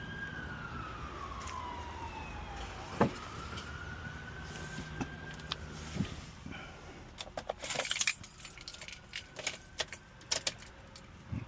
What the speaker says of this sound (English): I'm gonna go ahead and turn the ignition switch on